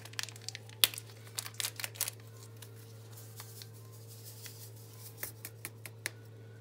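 A packet of yeast, being added to dough for Mosul-style arook, crinkles and rustles in short, quiet bursts with pauses between, close and soft against a low steady hum.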